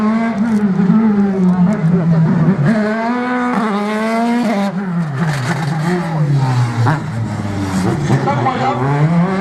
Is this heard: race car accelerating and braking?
yes